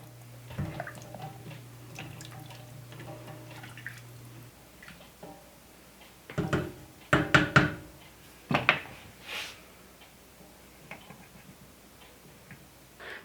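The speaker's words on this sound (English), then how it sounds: "I'm going to check on my wassail. Just give it a good stir." A spoon stirs gluten-free wassail in a pot on the stove: a few light clinks and knocks against the pot, clustered in the second half, with a low steady hum heard early on.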